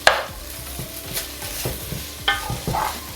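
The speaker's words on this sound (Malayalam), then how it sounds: "ഇതും കൂടെ ഇതിലോട്ട് ആഡ് ചെയ്ത് കൊടുക്കുവാണേ. എന്നിട്ട് ഇതെല്ലാം കൂടെ നല്ല രീതിക്ക് മിക്സ് ചെയ്ത് കൊടുക്കുക." A spoon stirs tomatoes and green chillies in a sizzling pan for prawn biryani, giving a rhythmic series of scraping strokes and soft clunks over a low frying hiss, close and clear.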